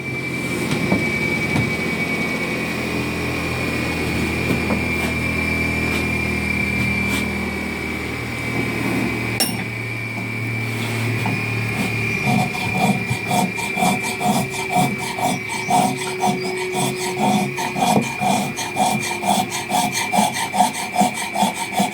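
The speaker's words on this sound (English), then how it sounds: "And the beauty of the blunt chisel is it can't dig in because it's blunt." Blunt chisel scraping and smoothing a very hard piece of yew held in a vise: a steady rasping rub at first, then a quick run of repeated strokes, close and loud, with no talk.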